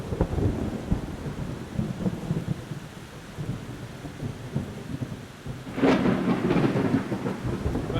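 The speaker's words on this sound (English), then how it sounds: "Right now we're experiencing a thunderstorm which has just been circling us since we've been here" Thunder rumbles through steady rain at an off-road campsite, with a loud, close crack and rolling burst near the end swelling over the constant patter of falling rain.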